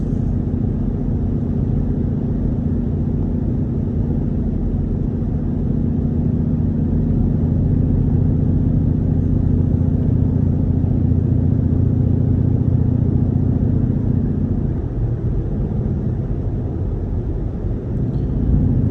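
A straight-piped Jeep with raw exhaust drones loud and steady while driving, a deep continuous rumble that holds for the whole stretch and shifts slightly near the end.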